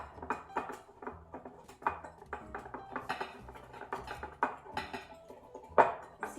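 Apple bake batter being mixed with flour and baking powder in a bowl, an irregular run of soft clinks and scrapes of a utensil against the dish, close and fairly quiet with no talking.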